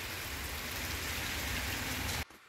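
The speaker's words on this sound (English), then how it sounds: "I know it's raining outside" Steady rain falls outdoors through an October day, a dense, even hiss with a low rumble beneath it that holds throughout and then cuts off abruptly near the end.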